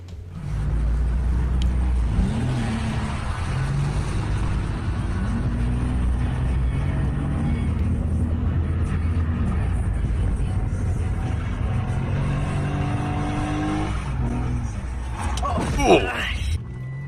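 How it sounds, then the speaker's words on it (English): A Nissan 300ZX roars through a wide drift with loud, continuous engine rumble and rising, falling revs, ending in a sharp tire-screeching surge as it spins out. "We got a 300ZX going for a wide drift"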